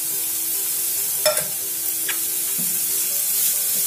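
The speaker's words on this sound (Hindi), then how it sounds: "अब हम इसमें डालेंगे गोभी, कद्दू कस की हुई जो गोभी है वो हम सारी इसमें डालेंगे" Grated cauliflower sizzles in a pan with garlic, onion, ginger paste and chillies, a loud steady frying hiss close by, with a few brief clanks and scrapes of stirring.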